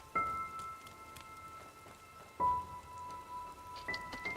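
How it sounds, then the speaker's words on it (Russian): Rain in the video game Enderal: Forgotten Stories, a steady patter of drops on surfaces under faint tonal game sounds, with a few louder splashy hits. "Дождь, гроза."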